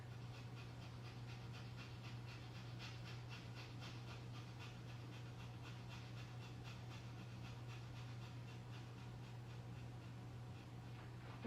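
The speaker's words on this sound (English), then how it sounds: "Breathe very fast in the nose like a sniffing dog." Rapid, forceful breathing through the nose during a yoga exercise, like a sniffing dog: quick rhythmic puffs repeat steadily and close up, with no talking over a constant low hum.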